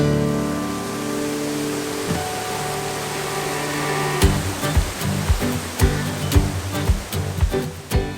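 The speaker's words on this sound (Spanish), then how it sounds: "La cascada principal de Villaluz mide 12 metros de altura" The 12-metre main waterfall at Villaluz park in Tabasco, Mexico, roars in a steady, loud wash of falling water; partway through, sharp rhythmic knocks or taps cut in over the continuous rush.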